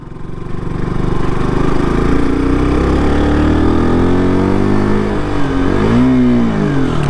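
Motorbike engine in first gear pulling up a steep road in Sikkim, with a steady, loud, close droning roar that rises slightly in pitch, with no talking.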